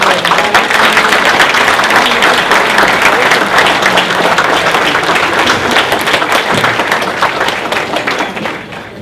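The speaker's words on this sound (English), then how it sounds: "Can you guys stand up, give my friend Mr. Jason Wojo a round of applause." Real estate investor conference audience standing to applaud a speaker, loud dense clapping from a large crowd close by, sustained for several seconds before tapering off at the end.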